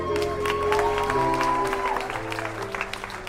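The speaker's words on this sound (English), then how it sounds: "Give her a round of applause." A studio audience gives a moderate round of applause that swells and then thins out, with a steady musical tone running beneath it.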